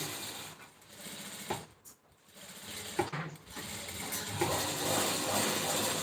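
A sewing machine runs while stitching piping onto a blouse neckline, with close mechanical whirring and clatter that pauses briefly, restarts, and then continues steadily.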